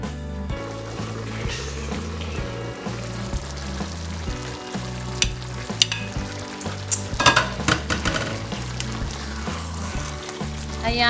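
Thick chilli pork belly mechado sauce bubbling in a pan while being stirred, close scraping and sticky simmering sounds over steady background music.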